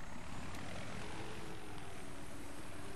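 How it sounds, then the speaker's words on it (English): Steady, loud whirring rotor and engine drone from a damaged helicopter in Battlefield 3, continuous and close with no breaks or voices. "this chopper has a big hole in its ass"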